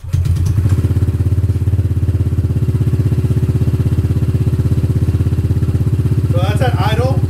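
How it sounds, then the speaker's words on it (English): Honda ADV 150 scooter idling through a raw Yoshimura exhaust, a loud, steady, rapid low-pitched burble held close throughout, with a brief rise at the start and a faint voice near the end. "This is just straight raw Yoshimura exhaust, so it's gonna be loud."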